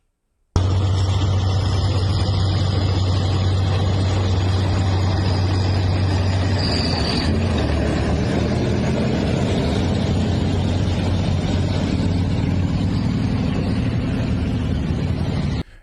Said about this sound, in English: This is another video of these tanks rolling through Suzhou City.